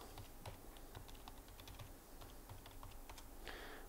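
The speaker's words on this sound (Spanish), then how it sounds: "Voy a poner una contraseña segura." Rapid, quiet key clicks from typing a password on a computer keyboard, a steady run of light taps over faint background hiss, with no talk.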